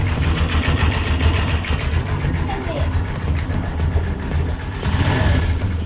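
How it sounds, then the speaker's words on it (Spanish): A GTS 150 motor scooter engine idles with a steady rattling chug, close and continuous, with a person talking faintly over it. "Y la moto encendió, amigos."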